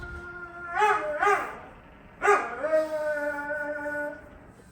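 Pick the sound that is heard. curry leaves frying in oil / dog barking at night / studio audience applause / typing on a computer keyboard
dog barking at night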